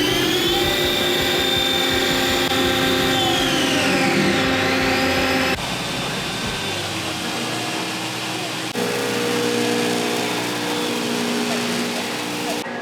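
Loud, steady whine of a CNC lathe cutting aluminum bar, with shifting tonal pitches and a drop in intensity partway through, over a constant mechanical hum.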